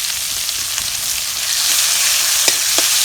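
Crushed shallots with broken ginger and garlic sauté in hot oil in a pan for a sorrel-leaf (gongura) kadayal: a steady, close hissing sizzle with a few soft stirring clicks near the end.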